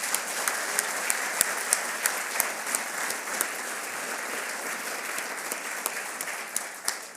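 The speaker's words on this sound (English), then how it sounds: "let's give them a round of applause" Applause from an audience at a chamber of commerce CEO speaker series, a steady moderate patter of clapping with distinct sharper claps popping out near the front, easing off at the end.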